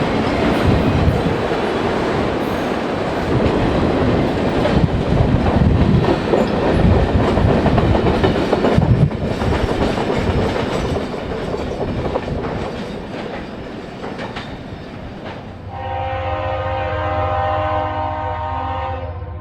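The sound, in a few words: Two GE Dash 8 locomotives hauling a westbound train over a bridge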